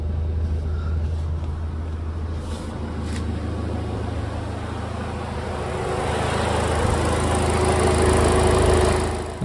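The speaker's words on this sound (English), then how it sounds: "Now when I shook this cable, my compressor started running." A car's AC compressor runs with the engine going, a steady low mechanical drone and hum heard close up that grows slightly louder toward the end.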